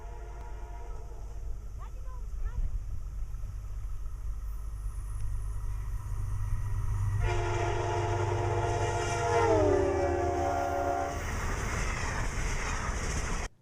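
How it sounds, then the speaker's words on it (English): A train horn sounds loud and near over a rumbling passing train, its pitch audibly dropping as it goes by, with rail noise continuing throughout. "you might hear the train horn. It sounds different as it approaches you to when it actually passes you"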